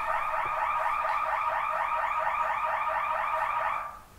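During a fire siren test, a warbling alarm drones continuously at a steady moderate level for about four seconds before fading away.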